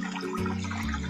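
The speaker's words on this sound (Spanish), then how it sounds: "Voy a vertir el agua y el agua va a tomar la forma del pocillo." Water poured from a glass into a small cup, a short steady trickle with a faint splash, close and alone with no talk.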